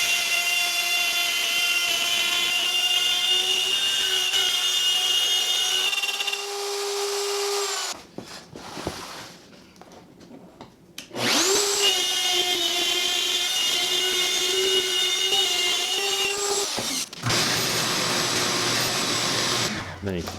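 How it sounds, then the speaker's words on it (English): A router fitted with a 1/4 inch bit cuts a deep channel in wood for a farmhouse dining table, a loud high whine that cuts out briefly midway, resumes, then changes tone near the end. "this first cut that you'll see me do here is with a 1/4 inch router bit"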